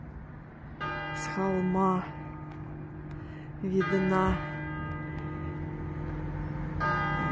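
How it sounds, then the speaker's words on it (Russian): A church bell in France rings out from behind trees, a few sustained tolls with long humming decay heard from a distance, while a person talks quietly over it. "О, колокол начинает отзванивать."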